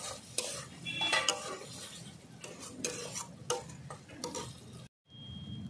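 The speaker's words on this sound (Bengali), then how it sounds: "পটল দিয়ে ভালো করে একটু কষিয়ে নেব হালকা করে।" Pointed gourd (potol) sautéed in oil, a utensil stirring and clicking against the pan in irregular strokes over a soft sizzle, close by, with a brief silent gap near the end.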